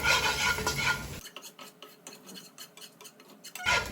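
A utensil scrapes and stirs sliced ginger roasting in a pan for tomato chutney, with irregular clinks and rubs against the metal over soft sizzling, loudest at the start and end.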